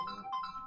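A phone ringtone chirps briefly and faintly, a short repeating electronic melody of bright tones lasting under a second, heard alone without talk.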